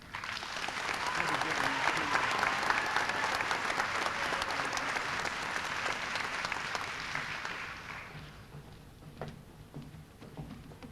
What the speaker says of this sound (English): give that round of applause for them